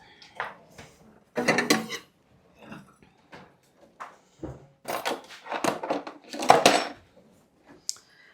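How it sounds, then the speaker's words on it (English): A knife and plate are taken out in a home kitchen: scattered clinks of cutlery, a ceramic clatter, and drawer or cupboard bumps come in short irregular bursts, close and fairly quiet, with brief talk between them. "I'm going to get a knife and a plate."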